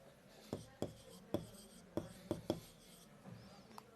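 Pen or marker writing amounts into financial statements: a series of short scratchy strokes in an uneven rhythm, close and fairly faint, with quiet room background and no voice over it.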